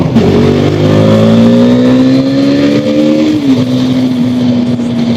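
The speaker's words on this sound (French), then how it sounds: "Vous voyez un petit peu la reprise qu'elle a, c'est pas énorme, mais c'est bien pour une petite moto." A small 2022 KTM motorcycle accelerates on a race circuit, its engine note rising steadily through the revs, then briefly dropping and levelling as it holds speed. The sound is loud, close and continuous, with no talk.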